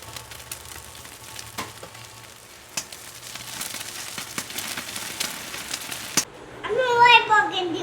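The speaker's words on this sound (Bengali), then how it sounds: "আলু ভাজা" Steady sizzling of potatoes frying in a hot pan, soft and continuous, with voices talking nearby and a louder burst of speech at the end.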